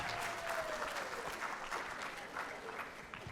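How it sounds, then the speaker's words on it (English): An audience at a freshman orientation applauds student volunteers, a dense wash of clapping heard from a distance, fairly faint and steady for a few seconds. "I also want to give a round of applause to all these student volunteers"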